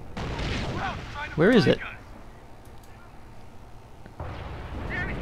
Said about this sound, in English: that artillery coming down is the Terror Howitzer